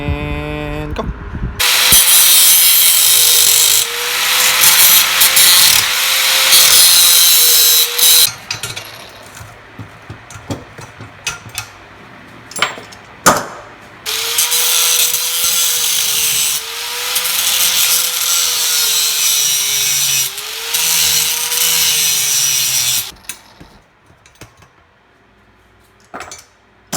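A power tool cuts through a metal traction bar bracket on a car, giving a loud, harsh, sustained grinding whine in two long stretches separated by brief pauses and clanks, close up.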